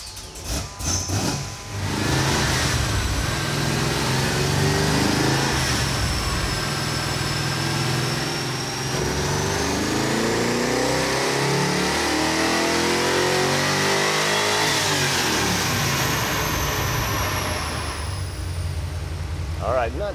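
A Nova with an LS2 crate engine revs hard through a dyno pull, a loud sustained engine roar climbing and falling over twenty seconds, with a voice briefly audible at the start.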